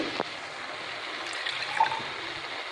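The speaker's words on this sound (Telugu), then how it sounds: "ఇప్పుడు కొలిసి నీళ్ళు వేస్తానండి" Water is poured onto measured foxtail millet in a pot while biryani is being made, a soft, faint trickle lasting a few seconds with a small splash near the end.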